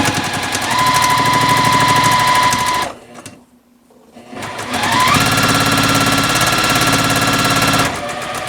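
A sewing machine stitches quilt block pieces together in two loud, rapid, steady runs of mechanical chatter with a brief quiet gap between them.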